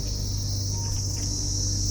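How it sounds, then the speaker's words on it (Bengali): Loud, steady insect chorus of cicadas or crickets in a sunny daytime pine forest near Kurseong, a continuous high-pitched buzzing drone that fills the whole stretch without pause, with no talking. "প্রচণ্ড ঝিঝি ডাকছে।"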